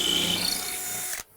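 A power drill bores a hole through wood for a deck railing, without the hammer function, giving a steady grinding whine that runs close and loud for over a second before cutting off abruptly.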